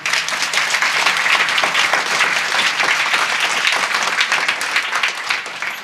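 Large audience clapping loudly and steadily at a devotional kirtan gathering, a dense continuous wash of applause for several seconds with no break.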